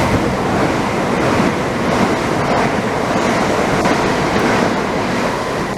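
Train passing through Grove Park station, a steady, loud, continuous rumble and rushing roar close by that holds level throughout with no pause.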